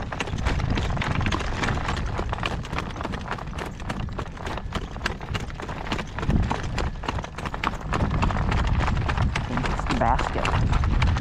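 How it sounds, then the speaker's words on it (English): Horse hooves clip-clop in a steady working trot close by on a windy day, the rhythmic footfalls continuing throughout with a rider's voice occasionally heard over them. "That's a nice working trot."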